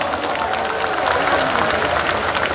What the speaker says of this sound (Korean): 조정식 전국 당원대회장에게 다시 한번 큰 박수 부탁드립니다.